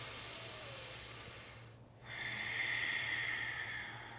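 Deep, slow breathing during a yoga stretch in a stress-relief session, a long hissing breath fading out, a brief pause, then a steadier airy exhale, close and fairly quiet over a low steady hum.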